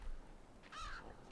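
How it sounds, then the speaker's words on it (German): A black bird in the video game Limbo gives a single short caw near the middle, faint against a low rumbling ambient background with no talking. "Oh, ein schwarzer Vogel."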